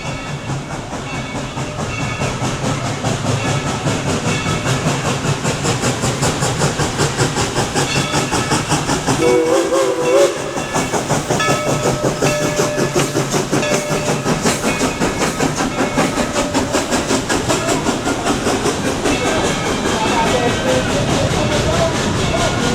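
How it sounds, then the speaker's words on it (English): A train at the Dollywood theme park rolls past close by with loud, steady rumbling and rhythmic clickety-clack from the wheels, a brief whistle-like tone in the middle, voices faintly mixed in. "Here's that train."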